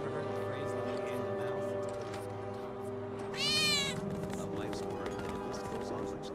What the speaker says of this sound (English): Did you hear that just now? I think one of Betty's cats might be nearby.